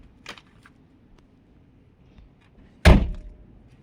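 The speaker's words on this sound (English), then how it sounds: "you'll see one door open" A 1992 Porsche 911 door thuds open with a sharp mechanical clunk, triggered by a car alarm system, fairly close, after a faint click and a stretch of quiet background hum.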